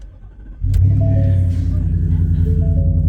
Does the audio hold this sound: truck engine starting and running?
yes